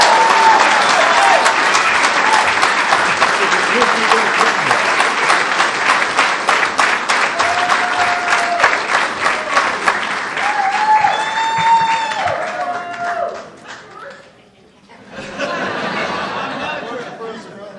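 A live audience applauds loudly and steadily for a guest named George being introduced on stage, dense clapping with scattered chatter and a few laughs, thinning out near the end before a short final burst.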